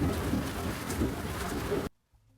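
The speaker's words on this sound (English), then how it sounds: "we've been having this torrential rain" Heavy torrential rain pours onto a sailing boat moored in Moreton Bay, Australia, a loud continuous hiss and patter that runs steadily before cutting off abruptly near the end.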